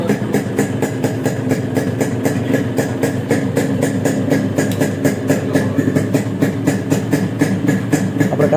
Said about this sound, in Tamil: வண்டியோட சவுண்ட் வந்து இப்போ கேட்குறதுக்கு எப்படி இருக்குன்னு பாருங்கள்.